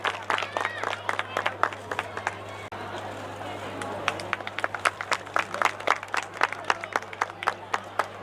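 Applause greeting guests at a Sorathiya Prajapati community mass wedding in Upleta, many hands clapping in a fast, uneven patter, fairly near, with crowd murmur and a voice on the sound system throughout.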